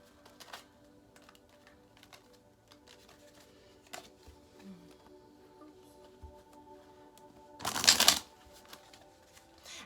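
Tarot cards being shuffled, soft scattered flicks and taps throughout with a dense burst of riffling near the end, quiet and close, no talking.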